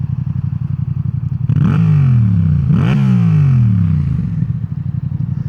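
A Yamaha XSR700 motorcycle fitted with a new aftermarket exhaust idles loudly, then revs hard twice in quick succession, each deep bassy rise falling back to a lumpy idle.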